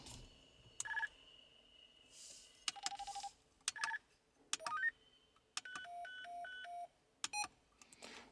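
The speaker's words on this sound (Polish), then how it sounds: "Roger beep." Short electronic roger beeps and chirped tone sequences from a CRT 2000 CB radio, crisp and close, repeating in brief bursts with quiet gaps between them.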